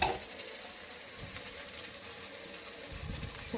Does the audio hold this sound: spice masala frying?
yes